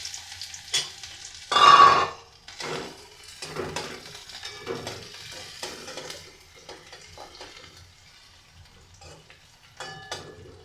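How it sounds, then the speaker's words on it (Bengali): Onions fry in hot oil for a cauliflower-leaf dish, giving a soft sizzle broken by bursts of spatula scraping and stirring against the pan, with one loud spike early on. "পেঁয়াজ ভাজা হচ্ছে।"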